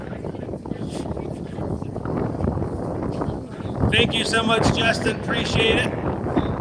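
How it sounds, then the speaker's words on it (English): Steady wind buffeting the microphone with a low rumbling roar throughout, while someone talks over it. "Oh, so windy."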